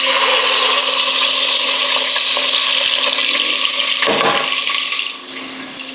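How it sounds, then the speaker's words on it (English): Pork liver frying in rendered pork fat for pancit lomi, a loud, continuous sizzle and hiss held steady for several seconds before dropping off near the end. "we're gonna be frying the liver in that pork fat"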